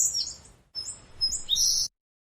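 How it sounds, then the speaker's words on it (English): Small birds chirp and tweet in short, high bursts from a nest indoors, two quick flurries of close calls separated by a brief pause, then silence. "I hear some birds in my room."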